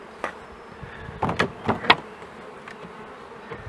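Bees buzzing around an opened wooden beehive outdoors, several individual insects passing close by in short, loud buzzing bursts over a quieter background drone.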